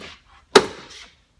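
The worn door stop check on a Toyota FJ Cruiser door gives one sharp, loud knock or clunk as the door swings. Faint creaks come just before and after it.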